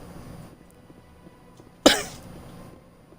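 A single sharp cough from a character in the video game Mass Effect bursts out over a quiet background hum, brief and close, then the room settles back to near silence.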